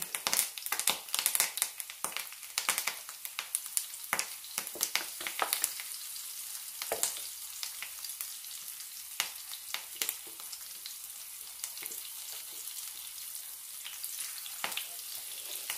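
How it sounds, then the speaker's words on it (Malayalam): Marinated brinjal slices frying in a pan with curry leaves, a dense, steady crackling sizzle with sharp spitting pops, loudest at the start and settling into a continuous fry. "ഇനി അതിലേക്ക് മാരിനേറ്റ് ചെയ്ത് വെച്ചിരിക്കുന്ന വഴുതനങ്ങ ചേർക്കാം."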